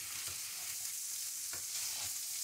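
Chile pasado being stirred in a pan with potatoes, heard as a soft, constant frying hiss with a few faint spoon scrapes, close but quiet, with no voices.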